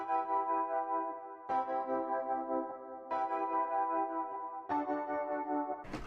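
Four sustained keyboard triad chords, each held about a second and a half before the next is struck, played alone at a steady, moderate volume.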